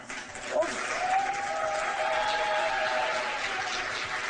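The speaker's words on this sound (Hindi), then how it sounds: "आप लोग तालियां बजा रहे हैं" Studio audience applause on a Pakistani morning talk show, a steady broadband wash of clapping that holds evenly for about four seconds, with a faint tonal line running through its middle.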